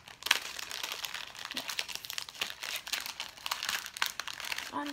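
Crinkling and crunching of plastic food packaging, close up, with a series of short scissor snips and rustles as it is cut open.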